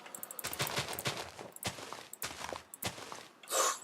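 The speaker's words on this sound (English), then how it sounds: "Now, that was actually properly delayed. That went far, and it still exploded in the air." TNT cannon in Minecraft fires with a series of dull thumping bursts and rattling clatter, followed near the end by a single louder airborne explosion, all close and free of talk.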